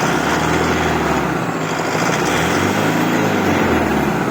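A medium six-wheel dump truck engine runs steady and loud up close, a smooth, even drone with a slight rise and fall as it is revved, with no talk over it.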